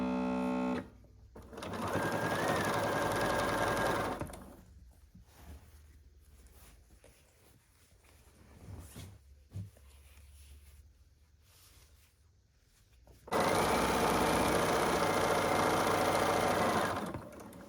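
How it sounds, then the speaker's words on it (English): A sewing machine stitches binding onto a minky quilt in two bursts of fast, steady mechanical whirring. Between the bursts there is a quieter stretch of fabric handling and small clicks. "I'm going to sew this binding to the front, and then I will flip it around and sew it to the back"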